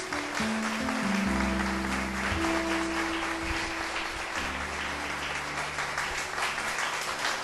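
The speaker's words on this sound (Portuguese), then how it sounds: "Pode aplaudir o Senhor Jesus." Church congregation applauding after a sermon, a steady broadband wash of clapping lasting throughout, with sustained organ or keyboard tones held underneath.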